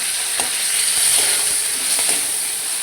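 Black cumin seeds and dried lentil dumplings sizzle and crackle in hot mustard oil in a wok, a steady bright hiss with a few soft pops, close and alone.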